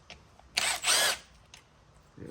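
An electric power tool works a Mercedes transmission during a rear main seal job, giving two short, loud bursts of drill whine close by, separated by a brief pause, with quiet workshop noise around them.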